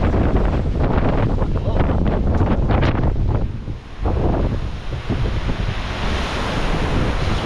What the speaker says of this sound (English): I think what's the wind at? Like 40 or 50?